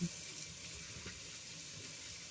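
Water running from a tap for rinsing, a soft steady stream, faint and unbroken for a couple of seconds.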